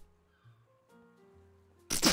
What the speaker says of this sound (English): I got rejected and then sneezed.